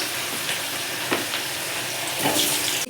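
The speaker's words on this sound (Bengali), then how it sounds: "এই কড়াতে আমি আলুটা ছেড়ে দিচ্ছি" Oil sizzles steadily in a kadai as potatoes fry, with a few soft clinks and stirring sounds over the constant hiss.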